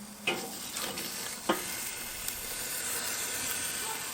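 Chicken halves sizzle on a Weber Star Spangled kettle grill, a constant close hiss with a few sharp crackles and pops early on.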